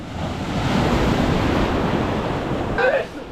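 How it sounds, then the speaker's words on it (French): Ocean surf breaks and washes in a continuous loud roar of churning water with wind buffeting the microphone close by, and a brief voice surfaces near the end. "il y a les vagues, elles me tapent dessus depuis tout à l'heure et elles m'arrosent."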